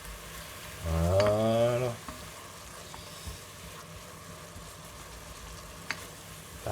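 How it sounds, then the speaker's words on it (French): A wooden spoon scrapes the bottom of a sizzling pan of chicken basquaise, a soft continuous sizzle with occasional scrape and clack, briefly covered by a loud tonal hum near the start and a short spoken word. "on gratte bien, avec une cuillère en bois bien évidemment"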